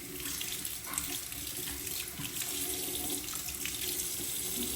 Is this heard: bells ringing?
no